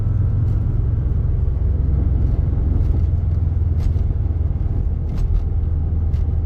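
A Subaru 2.5RS cruising in third gear gives a loud, steady road rumble with a constant engine drone, with no voices over it.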